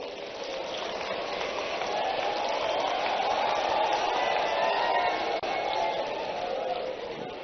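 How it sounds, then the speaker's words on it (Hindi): Sustained applause from a large audience at a health service conference, a dense, steady wash of clapping that holds at an even level for several seconds. "जोरदार ताली आपके लिए भी बजाओ"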